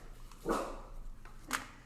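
A dog barks twice in a home kitchen during cookie baking, one fuller bark followed by a sharper, shorter one, fairly close and with no talking.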